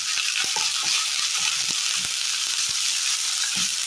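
Chopped elephant yam leaves sauté with onions in a pan for a Kerala curry, giving a loud, steady close-up sizzle with scattered soft stirring clicks and no voices.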